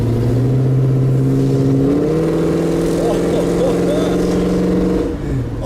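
A 1965 Chevrolet Impala's V8 engine revs up, its deep rumble stepping higher and swelling loud and close, then dropping back near the end, while someone talks over it.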